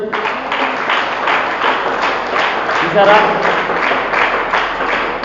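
Church congregation applauding at a preacher's urging, a dense steady wash of hand clapping throughout with a voice speaking over it.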